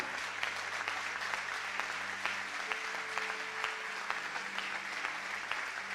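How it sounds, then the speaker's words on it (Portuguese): Church congregation applauding in honor of Daniel, a steady spread of clapping across the room with low musical tones sustained underneath, moderately distant and even throughout. "Você pode aplaudir o Daniel."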